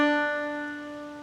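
Single plucked clawhammer banjo note ringing out alone, bright and clear with a slowly fading sustain, nothing else heard.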